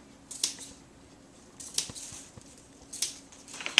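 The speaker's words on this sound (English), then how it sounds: "Another fun trick to use for a bow is to actually take and snip these loops." Scissors snip ribbon loops on a gift bow in a few quiet, separate cuts, close and crisp and spaced about a second apart, with no talking.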